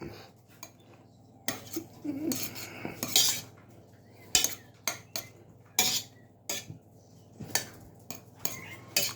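A spoon stirs small pieces of butter as they melt in a pan, making a run of sharp metallic scrapes and clinks in irregular bursts, close up and with no talk.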